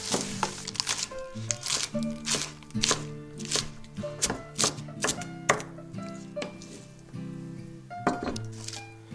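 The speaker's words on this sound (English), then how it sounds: "now chop up some lettuce." Lettuce is chopped on a board in a run of irregular, crisp knife thunks, some in quick pairs, with soft musical tones sustained underneath.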